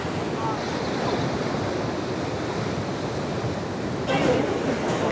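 Ocean waves crash and wash against the rocky coastline at Puerto de la Cruz, Tenerife, a continuous loud roaring surf with wind buffeting the microphone and a stronger surge near the end.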